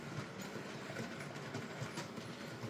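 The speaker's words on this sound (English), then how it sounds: "The train currently running around is a Hornby Evening Star with 17 Acura scale 21 tonners" A Hornby Evening Star model locomotive pulls 17 scale 21-ton wagons around a loft layout, its wheels giving a faint, steady clickety-clack rolling over the track.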